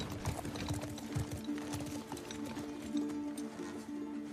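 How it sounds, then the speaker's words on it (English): A horse's hooves clip-clop in a steady trotting rhythm in the video game The Last of Us Part II, close and even, over a soft sustained musical tone. "The fact that I'm on a horse."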